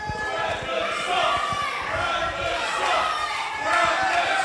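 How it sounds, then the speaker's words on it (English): Crowd noise at an amateur boxing bout between Brandon Lee and Kieron Lacey in Harold Hill, a steady roar of shouts and chatter rising and falling, with voices calling out throughout. "The crowd letting them know what they think of him."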